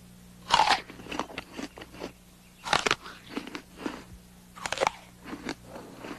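A sweet apple from an orchard bitten and chewed, three loud crisp crunching bites each followed by wet rhythmic chewing, close up, with no speech.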